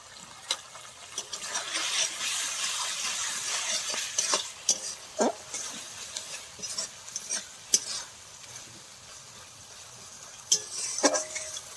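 Spices sizzle in hot oil in a pan as a village-style taro and fish curry cooks, with steady frying hiss and repeated scraping clinks of a spoon stirring against the pan.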